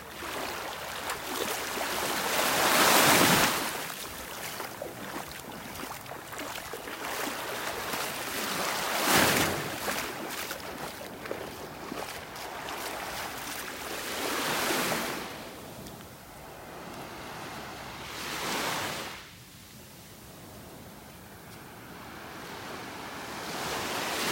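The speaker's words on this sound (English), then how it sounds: "Right where the waves are kind of breaking here." Ocean waves breaking on a beach in North Naples, Florida, with surges rolling in every few seconds over a steady wash of surf and some wind noise on the microphone.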